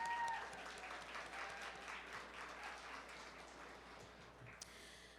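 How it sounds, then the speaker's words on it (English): An audience at a women's honoree reception claps steadily in a hall, a fairly quiet, even patter of applause that slowly thins out. "And yes, clap it up"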